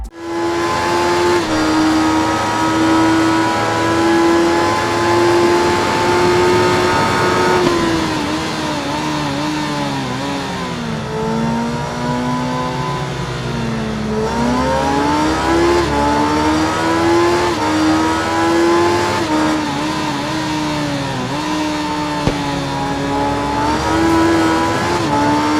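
A Kawasaki 953cc inline-4 motorcycle in the racing game RIDE, engine revving loudly and continuously, pitch rising and falling through gear changes over a steady roar, with no voices.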